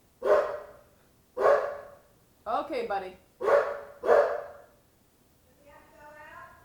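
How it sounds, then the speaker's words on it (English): Dog barking indoors, five loud distinct barks at roughly one-second intervals, followed by a softer whimpering yip, with someone speaking briefly between them. "I hear a dog barking"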